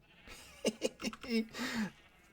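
Blue-dyed sheep in a video game bleat several times in quick succession, short wavering cries followed by a longer drawn-out bleat, fairly clear and close.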